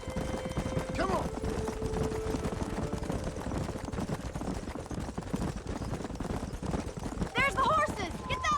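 Horses gallop in Red Dead Redemption, a rapid drumming of hooves under game music and gunfire-like cracks, with voices talking over it.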